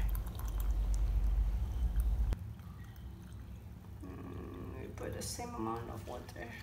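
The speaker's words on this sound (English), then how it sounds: "now I will add 200 milliliter of water for each glass" Lukewarm water pours steadily into glasses with a rushing, splashing sound for about two seconds, then quieter trickling and clinks follow, with a voice talking softly underneath.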